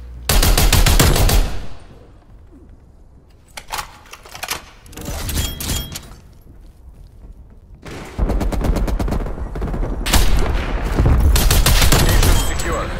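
Rapid gunfire from the DMR 14 rifle in Call of Duty Black Ops Cold War crackles in loud, close bursts, with a long pause in the middle and then sustained volleys near the end.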